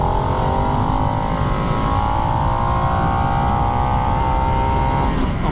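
A 2022 Harley-Davidson Nightster motorcycle revving to just under 8,000 rpm on a road ride, a loud, close engine howl rising steadily in pitch with wind rush underneath, then easing off at the end.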